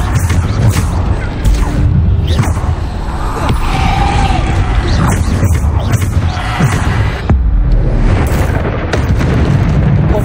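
Bombarda spell explosions in the video game Hogwarts Legacy, loud repeated booms and bursting impacts in a dense, chaotic battle mix, with thuds and crackling hits throughout.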